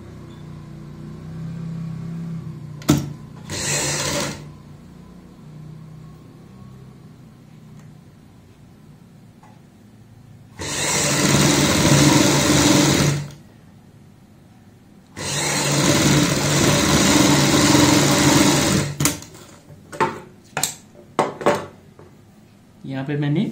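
A sewing machine stitches pintucks on a neck panel in a few loud, sustained whirring runs broken by quiet gaps, with someone talking in between.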